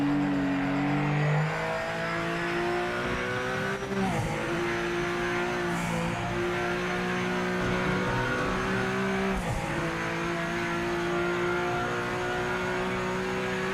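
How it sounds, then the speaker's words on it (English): A steady, droning GT500 race car engine in the racing video game Project Motor Racing, held at a constant pitch, shifting gears a couple of times with brief dips, continuous and without talk. "I love the sound of this car."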